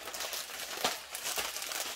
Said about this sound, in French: J'enlève le papier.